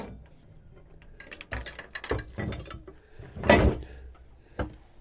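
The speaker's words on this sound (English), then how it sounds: "So we just release the anchor a little bit." Anchor chain being let out on a Merry Fisher 895 boat, a series of irregular metallic clanks and rattles with one louder clatter near the end, close by and without talk.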